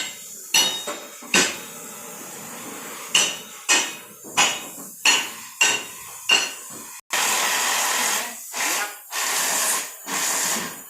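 Heavy hammer blows strike a welded steel lock on an old car, landing as a series of loud, sharp metallic impacts at irregular intervals, with harsher grinding-like bursts near the end.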